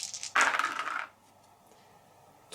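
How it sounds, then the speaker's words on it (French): Dice tumble and clatter onto a table during a solo board game, a loud rattling burst lasting under a second before fading into quiet room tone. "Donc je vais lancer mes dés."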